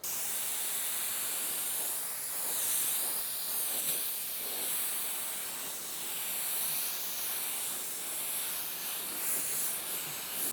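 Spray gun with a 1.8 tip atomizing primer onto a car hood for a final wet coat, a steady close hiss that holds evenly throughout with slight swells as the passes move.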